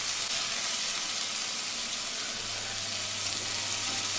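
Red onions caramelizing in a pan for an onion tart, giving a steady, even sizzle throughout with a faint low hum beneath, no voices.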